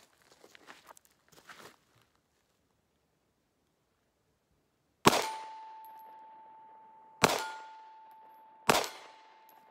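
Three sharp, loud pistol shots from a 3-inch XD fired at a range, spaced a couple of seconds apart, each with a ringing metallic ping and fading echo, after faint handling noises.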